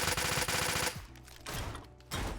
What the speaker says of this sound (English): it doesn't really have a huge use other than just launching flares into the sky